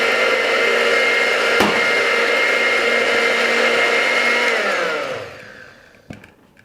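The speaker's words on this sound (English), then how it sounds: "Let's blend that up." A blender whirs loudly and steadily while blending a walnut salad dressing, then winds down and stops near the end, leaving a couple of faint clicks.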